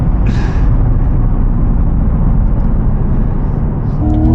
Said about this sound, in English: There's something about a Roots blower attached to a dual clutch transmission.